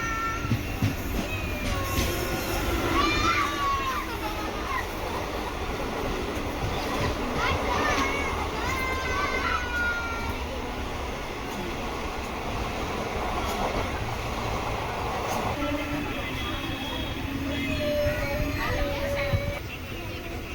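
A MEMU passenger train from Tiruvannamalai to Tambaram runs steadily, with a constant loud rumble and rattle of the carriages and brief squeals over it, heard from inside throughout.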